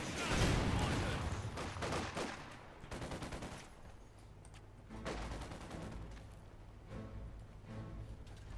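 Infantry rifle and machine-gun fire crackles in a Company of Heroes 2 battle between Panzer Grenadiers and British troops, with dense bursts of shots, several distinct volleys and lulls, plus artillery-like thuds at moderate loudness.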